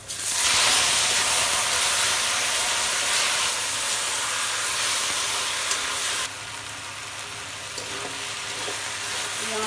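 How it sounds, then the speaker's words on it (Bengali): Leafy greens frying in a pan with onion and chili give a loud, steady sizzle and hiss throughout, easing slightly partway through, with no talking. "পেঁয়াজ মরিচ ভাজা হয়ে গেছে, এবার আমি শাকটা ঢেলে দেবো।"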